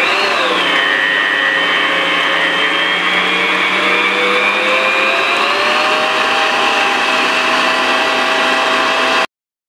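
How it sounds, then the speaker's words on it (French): Electric whisk running at high speed through liquid cream, mascarpone and vanilla gives a loud, steady motor whine whose pitch rises slightly as the mixture thickens, then cuts off abruptly. "la crème liquide, le mascarpone et l'extrait de vanille et on va commencer à fouetter tout ça en vitesse rapide"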